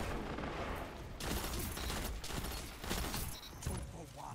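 Pulse rifle fire in the video game Destiny 2, rapid bursts of shots with impacts and mechanical clatter, loud and dense throughout, blending with other battle noise.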